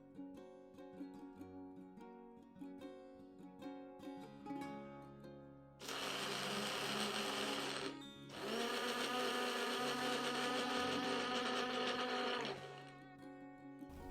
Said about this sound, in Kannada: ಇದಕ್ಕೆ ಸ್ವಲ್ಪ ನೀರು ಸೇರಿಸ್ಕೊಂಡು ಇದನ್ನು ಚೆನ್ನಾಗಿ ರುಬ್ಕೊಳ್ಳೋದೊಂದೇ ಬಾಕಿ